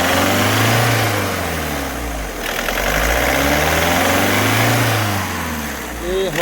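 A Volkswagen Vento engine runs steadily with an injector knocking, a continuous close mechanical drone with fine rhythmic ticking, and a voice talks over it throughout.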